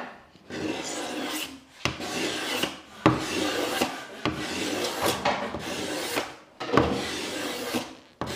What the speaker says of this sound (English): This is what you want to be seeing off a scraper. Actual shavings, not just powder.